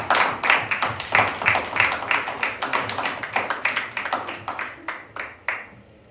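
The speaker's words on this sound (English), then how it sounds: "And a big round of applause once again for Charles," A small audience at the 2022 Advice Cube GP final claps for the trophy winner, individual claps distinct and fairly close, steady for several seconds before thinning out and fading at the end.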